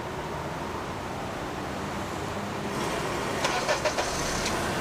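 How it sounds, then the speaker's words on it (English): A car engine droning steadily while driving through the Dickson, Tennessee area, a constant broadband road-and-engine rumble heard from inside the vehicle, with a few brief faint clicks near the end. "that car sounds like you're going a lot faster than you are"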